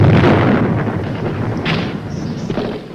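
An exploding booby trap in the Vietnam War gives a loud, low rumbling blast that fills the whole stretch and then rolls on as a sustained roar.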